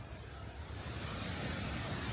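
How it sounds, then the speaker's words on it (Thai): A steady, rushing roar of falling water at Pha Dok Siao waterfall on Doi Inthanon, Chiang Mai, broad and continuous, swelling slightly louder toward the end with no voices. "อ่าอได้ยินเสียงน้ำตกแล้วนะครับ"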